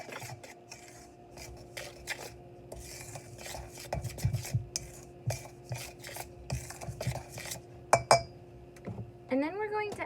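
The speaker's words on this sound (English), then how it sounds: "we're gonna just take the dry ingredients in this bowl, and mix them together" Dry banana bread ingredients are stirred together in a bowl, giving soft, quiet scraping and occasional light clinks of utensil against the bowl, with a steady faint hum underneath.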